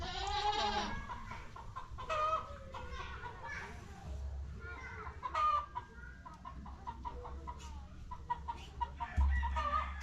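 A village chicken crowing and clucking amid rural farmyard sounds, with children playing and people chatting throughout and a low steady hum underneath.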